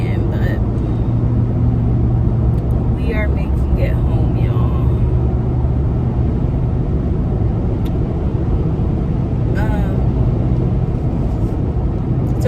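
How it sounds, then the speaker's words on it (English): Heavy road traffic with a truck engine rumbling nearby at 5 o'clock rush hour, a steady loud drone throughout while someone talks over it. "It's 5 o'clock and this is like the worst traffic to be in"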